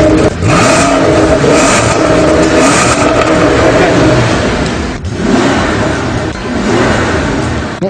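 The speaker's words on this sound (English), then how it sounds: "I'm just going to give this a few revs." The engine of a Bentley Continental GT replica revs loudly and close up in repeated surges, a roaring rise and fall with a brief dip in the middle.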